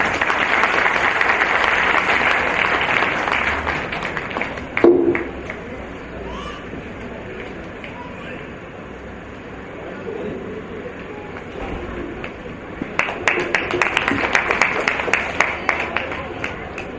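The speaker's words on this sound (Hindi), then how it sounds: "एक बार उनके सम्मान में जोरदार तालियां" Audience clapping to honour a woman guest at a Maharaj Agrasen Jayanti event, loud at first, then fading to a murmur before a second burst of clapping swells near the end.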